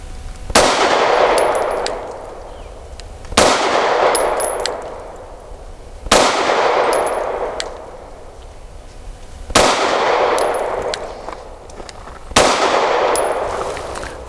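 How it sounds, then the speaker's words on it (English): Five loud, sharp shots from a Sig P320 pistol fitted with a Wilson Combat Compact grip with tungsten insert, fired at a 7-yard target, spaced evenly about three seconds apart, each crack trailing off in a brief ringing decay, with no talking. "5 shots from 7 yards with the Wilson Combat Compact model with the tungsten inserted."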